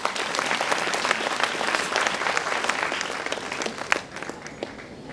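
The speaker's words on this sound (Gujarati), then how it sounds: "તો એકવાર જોરદાર તાળીઓ એમના સપના માટે હોવી જોઈએ." Audience applause at the UDAAN 3.0 motivational speech event: a dense, sustained round of clapping from a crowd that carries on steadily and eases off slightly toward the end.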